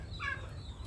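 A short, quiet turkey gobble, a quick warbling call heard once at moderate distance against low background noise.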